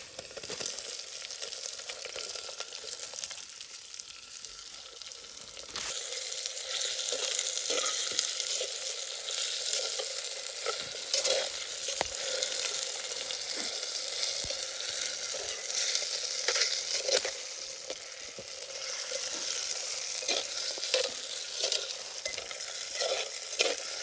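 Potatoes fry in a pan with a steady, dense sizzle and occasional stirring scrapes, close and continuous with no talking.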